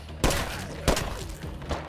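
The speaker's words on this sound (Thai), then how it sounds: "โอ้ยิงปืนอะไรของมันวะ" Three or four sharp gunshots go off in the State of Decay 2 zombie game, spaced out and moderately loud over a low rumbling background.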